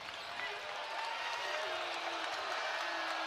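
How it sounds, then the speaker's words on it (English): Basketball arena crowd noise during a close college men's game between BYU and Nebraska, a steady loud roar of cheering that holds throughout with no break. "Crowd here in PBA getting loud, trying to get a stop here for the Huskers"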